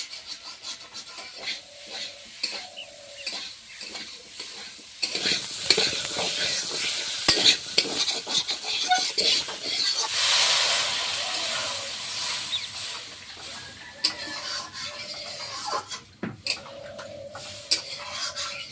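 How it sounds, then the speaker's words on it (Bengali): Water poured into a frying curry in a home kitchen, setting off a burst of loud hissing sizzle and steam after quieter stirring and scraping, then fading back to softer bubbling and scrapes. "তরকারিটা আমার প্রায় কষা করা হয়ে গিয়েছে, এবার জল ঢেলে দেবো।"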